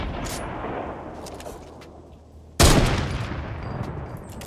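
Fortnite Battle Royale gunfire: a burst of shots fades out, then after a lull one loud sharp blast cracks in and trails off into scattered further shots.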